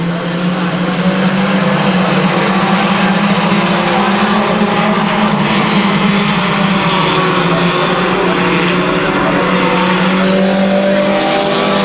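Stock cars racing at Midvale Speedway, a pack of ten engines roaring continuously and loud at close range, rising and falling as they pass, with no talk.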